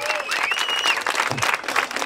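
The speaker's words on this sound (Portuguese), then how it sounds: "Palmas pra essa batalha!" Crowd applause after a round of a freestyle rap battle at a hip hop tour stage in Piracicaba, with clapping and some voices mixed in and a whistle-like tone above, steady and fairly loud for about two seconds.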